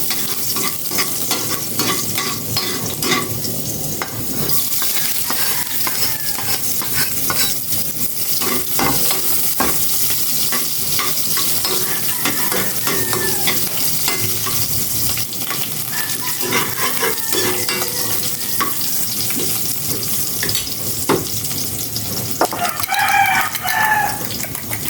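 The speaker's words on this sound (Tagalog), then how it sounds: "Igisa ko na itong bawang sibuyas" Garlic and onion sauté in a hot pan with a steady, loud sizzle and repeated stirring scrapes, while a rooster crows and chickens cluck in the background throughout.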